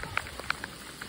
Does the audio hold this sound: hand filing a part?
no